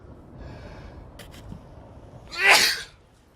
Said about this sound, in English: these sneezes are getting very annoying